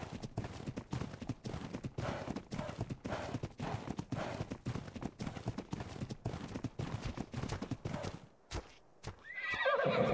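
A video game horse repeatedly neighs and whinnies over steady clip-clopping hooves, loud and continuous, with a brief quiet gap near the end.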